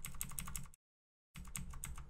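Rapid, rhythmic keyboard clicking from a computer keyboard used to play Grand Theft Auto: Vice City, heard close up, broken by a brief total dropout before the tapping resumes at the same quick pace.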